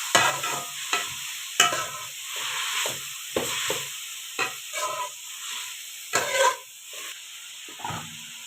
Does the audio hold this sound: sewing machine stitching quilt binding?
no